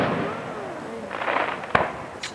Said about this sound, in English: she's trying to watch the fireworks.